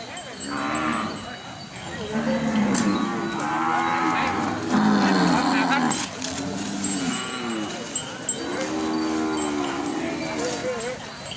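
Cattle at a village market in Thailand give several long, loud, low moos one after another, with crowd noise and talking in the background.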